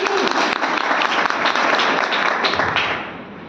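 Audience applause at a business plan presentation, a dense wash of clapping from a sizable crowd, steady and loud for about three seconds before tapering slightly at the end.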